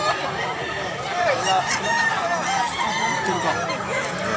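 Roosters and hens crowing and clucking amid a busy outdoor chicken market at Mantalungon, Barili, Cebu, with a dense, steady din of fowl calls layered over crowd noise and people talking nearby.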